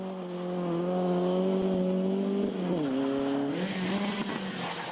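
A Ford Escort Group 4 rally car at the Boucles de Spa 2012 rally holds a loud, steady engine note, then the pitch dips and climbs again as it shifts and drives on close by.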